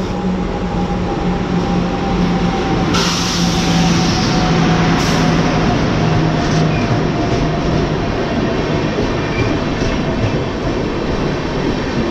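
A train rolls past a railway station platform at Balasore, a loud, continuous rumbling roar of wheels and carriages with a steady hum throughout, close by and unbroken.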